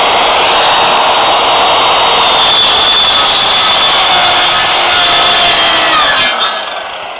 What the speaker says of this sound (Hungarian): Majd valahogy megpucolom a fűrészt utána.